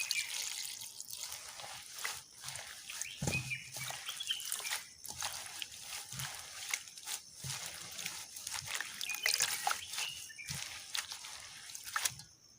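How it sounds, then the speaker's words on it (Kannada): Drumstick leaves are washed by hand in water, making soft, close, intermittent splashes, drips and squelches. The sound is faint throughout, with no talk. "ಇನ್ನು ಅದನ್ನು ನೀರು ಹಾಕಿ ಚೆನ್ನಾಗಿ ತೊಳ್ಕೊಳ್ಬೇಕು."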